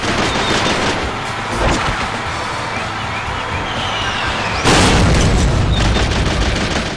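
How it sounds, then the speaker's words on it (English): Continuous machine gun fire in the PlayStation 3 game Wolf of the Battlefield: Commando 3, a dense loud rattle of shots with explosions bursting through, one big blast near the end, no talking. "Each one is equipped with an infinite ammo machine gun"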